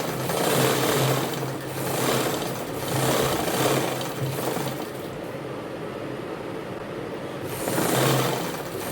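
A sewing machine top-stitches the neck of a blouse in steady, rhythmic bursts of close, even whirring, with brief slowdowns between runs and no talking.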